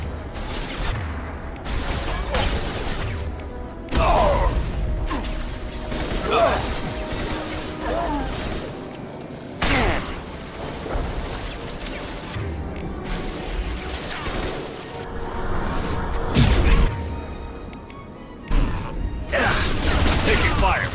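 Gunfire rattles through a Mass Effect 2 firefight in bursts of loud, dense shots mixed with mechanical clatter and other battle noise, and it carries on steadily throughout.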